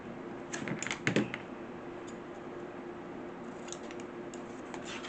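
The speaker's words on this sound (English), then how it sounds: "And then I'm going to cut the corners off." Scissors snipping the corners off a paper junk journal tag, a quick cluster of close crisp cuts followed by a few lighter snips after a pause.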